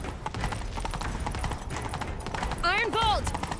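Horse hooves clip-clop at a gallop in The Witcher 3, a steady rapid beat running throughout, with a horse's whinny rising near the end over the game's background sounds.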